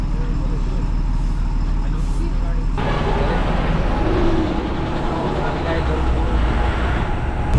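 A state transport bus idles and moves near a roadside bus stand, its engine giving a deep, steady rumble under broadband road and traffic noise, with a voice talking over it.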